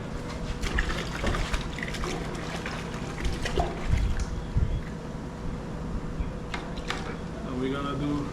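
Water sloshes and trickles in a bucket as a Graco Nova 390 PC paint sprayer is cleaned, irregular splashes and pours rising and falling, with a person talking throughout.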